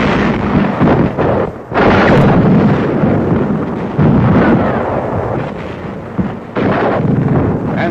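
Enemy gunfire and artillery during a 1945 bridge crossing in Germany, heard as loud, continuous rumbling blasts and bursts with a couple of brief drops in the din, no voices audible.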